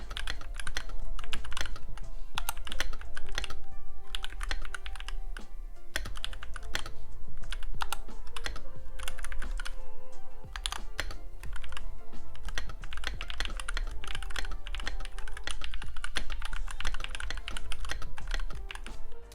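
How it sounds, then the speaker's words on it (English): Typing on a NuPhy Halo65 keyboard fitted with Gateron Baby Kangaroo switches and the older spacebar, a dense, continuous run of crisp keystrokes with a full low thock, loud and close, with no talking. "Now next we're going to do the Gateron Baby Kangaroos on the Halo65 with the old spacebar."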